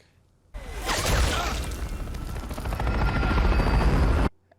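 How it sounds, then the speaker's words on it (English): A loud helicopter in Stranger Things season 4 episode 8 roars close by with chopping rotor noise and a whooshing swell, starting abruptly and cutting off after about four seconds. "There's still a helicopter."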